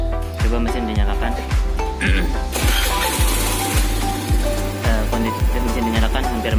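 A fuel-injected car engine idles with a steady, rhythmic mechanical ticking and clatter, close and fairly loud, while someone talks over it during a fuel pressure check.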